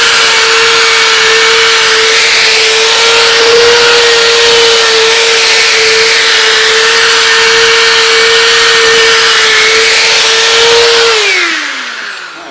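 A drill running a bladder sander on a wood guitar body gives a steady, loud whine with a constant tone and broadband grinding hiss, running continuously before winding down and stopping near the end.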